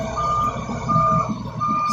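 A dump truck at a construction site where gravel is being spread emits steady reversing beeps, repeating about every 0.7 seconds over a low rumbling diesel engine idle, close and clear with no talking.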